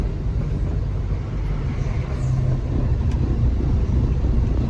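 A cargo truck's engine pulls in low first gear, a deep, continuous loud rumble that swells slightly toward the end, with no talking.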